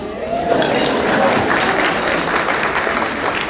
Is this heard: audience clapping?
yes